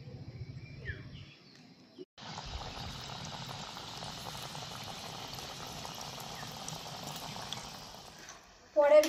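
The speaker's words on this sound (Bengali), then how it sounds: "এইভাবে করে বাকিগুলো ভেজে নেব" Rice-flour gaja pastries deep-frying in hot oil give a steady, dense bubbling hiss that starts abruptly after a quiet, muffled opening and holds evenly close by, ending with a louder clatter.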